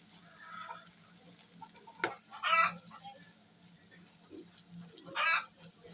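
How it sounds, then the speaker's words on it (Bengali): Eggs stirred with fried spice paste in a pan, a soft sizzle under scattered scraping strokes of a spatula, with a couple of louder stirring bursts. "কষানো মশলার সাথে ডিমটাকে ভালোভাবে নেড়েচেড়ে মিশিয়ে নেব"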